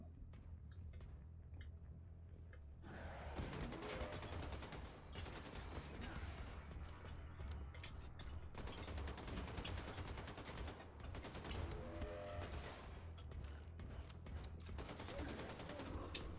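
Bursts of machine pistol gunfire from the Wolfenstein II shooter, rapid automatic volleys repeating through most of the stretch over constant low game rumble and background music.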